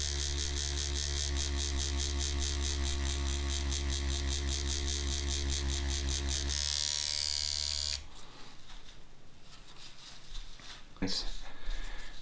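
A JDMFG Anvil MK1 rotary tattoo machine runs with a steady, close electric buzz and hum that shifts pitch and then turns rougher and quieter near the end, and a voice talks over part of it.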